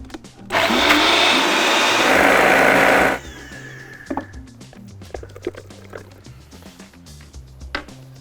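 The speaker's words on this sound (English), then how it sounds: "Got it in the blender now." A kitchen blender whirs loudly for about three seconds while mixing an apple mixture with butter, then cuts off, followed by faint clatter and scraping nearby.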